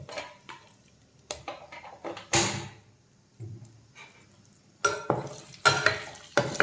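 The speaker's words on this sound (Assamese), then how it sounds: "এতিয়া এইখিনি তেলতে আলু কেইপিচ ফ্ৰাই কৰি ল'ম।" Potato pieces frying in oil in a pan after pork, a soft sizzle broken by sharp clatters of a utensil stirring and scraping against the metal in irregular bursts.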